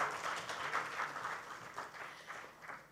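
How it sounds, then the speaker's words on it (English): A room full of people gives a round of applause at a panel discussion on the Indian economy, a sustained, moderately loud wash of clapping that tapers slightly toward the end. "Can we have a huge round of applause for Mr. Rahul?"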